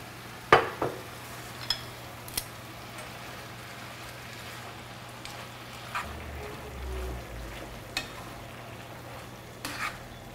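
Vegetables and noodles being stirred in a frying pan, a soft steady sizzle under scattered scraping and clinking of a utensil against the pan, quiet and close.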